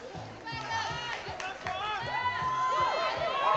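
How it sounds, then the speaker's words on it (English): Roller derby crowd at a double-header bout, loud sustained cheering and chatter filling the venue, with an announcer's amplified voice running over the noise. "And the crowd goes wild."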